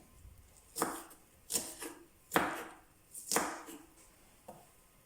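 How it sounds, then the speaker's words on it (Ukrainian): A knife finely chops onions on a cutting board in about five spaced, crisp strokes, close and fairly quiet, with a slow steady rhythm. "Беремо дві невеличкі цибулинки і кришимо її як на суп чи на салат дрібненько"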